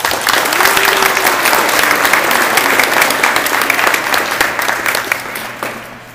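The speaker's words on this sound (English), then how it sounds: "Let's give the kids a round of applause." Sustained audience applause at a Rotary science fair awards presentation honouring young first, second and third place winners, a loud, dense wash of clapping that slowly thins out toward the end.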